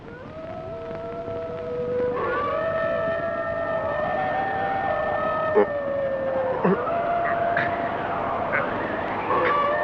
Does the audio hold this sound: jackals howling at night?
yes